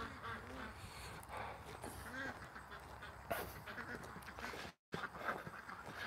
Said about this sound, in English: What are you doing there, little ducks?